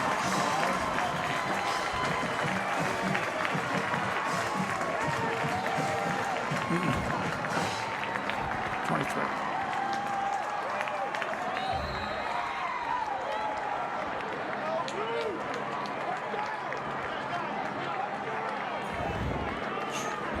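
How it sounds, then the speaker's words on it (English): A home crowd at a high school football game, Downingtown East hosting Coatesville, roars and applauds after a touchdown run, a steady wash of cheering under continuous commentary. "and their crowd is loving it"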